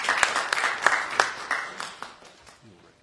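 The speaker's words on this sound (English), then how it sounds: "Let's give her a round of applause." A church audience at a Sunday dedication and thanksgiving service gives a short round of applause, a burst of clapping that tapers off quickly over about three seconds.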